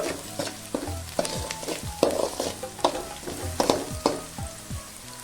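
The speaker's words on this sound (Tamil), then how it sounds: "வெங்காயம் பொன்னிறமாக வதக்கிங்க" Onions frying and being stirred in a pan for egg fried rice, a loud steady sizzle broken by repeated scraping strokes of a spatula against the metal, with no voices.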